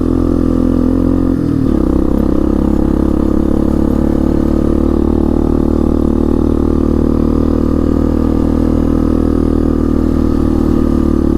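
A 1998 Yamaha Big Bear 350 4x4 ATV engine drones loud and close while driving, with a brief dip and shift in pitch near the start as it downshifts, then settles into a steady, low lugging rumble.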